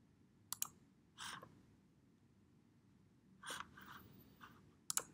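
A few sharp mouse clicks on a create button stand out from a faint background, with soft breathy sounds between them.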